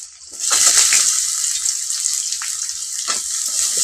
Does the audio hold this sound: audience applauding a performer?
no